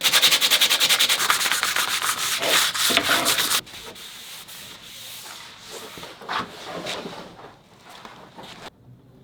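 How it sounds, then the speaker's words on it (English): Rapid, rhythmic sanding of wood, loud and close, with fast scraping strokes that give way to slower, quieter rubbing passes. "Now I'll sand it."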